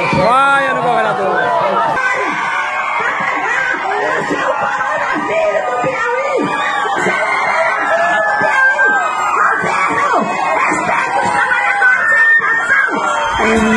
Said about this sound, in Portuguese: Vaia no governador!